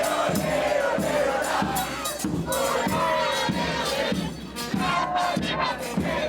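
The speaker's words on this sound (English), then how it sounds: "There's like a whole marching band, it sounds like, and people are cheering and out and about, waving their flags" A dense street crowd at World Cup festivities in Miami cheers and chants loudly and close by, with rhythmic shouts and drum-like beats pulsing through the continuous roar.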